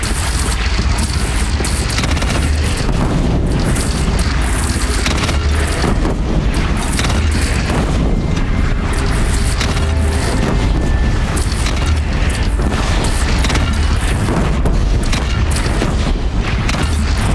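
Repeated heavy booms of cannon fire in the game Horizon Zero Dawn, rolling over a constant noisy battle backdrop with wind-like rumble.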